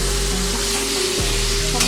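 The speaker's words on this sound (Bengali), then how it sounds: "এবারে দিয়ে দেবো চিকেন।" Chicken pieces sizzling and frying with spices in a pan for a Bengali chicken curry with potato and capsicum, a steady close hiss with a brief stirring scrape partway through.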